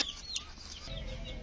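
Farm chickens kept together with other birds cluck in short, close bursts for a brief moment, with some sharper calls near the start and steady outdoor background noise.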